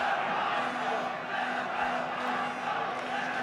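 Liverpool supporters in the stands at an FA Cup Final against Arsenal, a dense roar of crowd chanting filling the stadium, steady and sustained throughout, heard from a distance.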